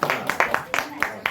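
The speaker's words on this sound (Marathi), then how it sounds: "हा जोरात टाळ्या वाजवा" Wedding guests clapping at a Marathi wedding ceremony, a few sharp irregular bursts of hand claps mixed in with voices talking nearby.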